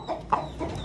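A rooster clucks while being held and handled, giving a couple of short, close clucks within a brief moment over low background noise.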